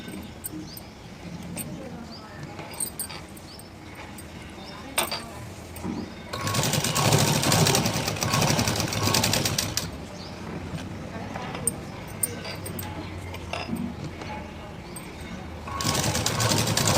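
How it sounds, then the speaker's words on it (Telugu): A sewing machine stitches around a blouse piece in bursts of fast, steady mechanical whirring, loud and close, with pauses between runs while someone talks over and between them. "ఇలా హోల్డ్ చేసేసి చుట్టూ ఒక కుట్టేసేయండి"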